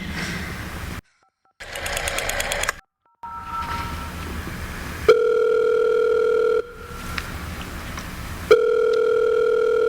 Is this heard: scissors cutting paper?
no